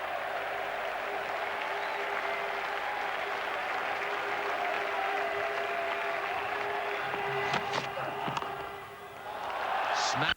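Home supporters at a 2001 England vs Pakistan cricket Test match in Manchester applaud and cheer in a sustained distant crowd wash, with a few sharper claps near the end and a commentator's voice faint underneath.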